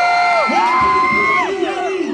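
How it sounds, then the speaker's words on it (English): Crowd of spectators at a bboy breakdance showdown yelling and whooping, loud and sustained, with rising and falling shouted voices over a continuous roar of noise. "I want to hear a lot of noise from this crowd"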